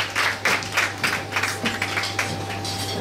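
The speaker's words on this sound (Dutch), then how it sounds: "Maak alsjeblieft een luid applaus voor Bo" Audience clapping at a Miss Elegance pageant, a few separate bursts of applause over a steady low hum, moderately close, fading toward the end.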